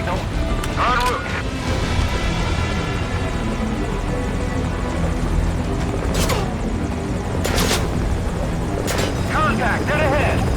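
A military helicopter in the video game Metal Gear Solid V: Ground Zeroes, its steady rotor roar filling the scene loudly and continuously beneath shouted radio chatter and voices.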